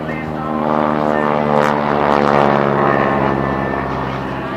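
A propeller aerobatic airplane at an air show drones loudly overhead, its engine note steady and harmonically rich, swelling slightly as it slows and passes close by.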